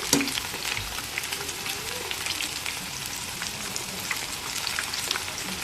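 Chicken pakoda pieces frying in hot oil give a steady, soft sizzle with crackling bubbles throughout, close and continuous with no talking.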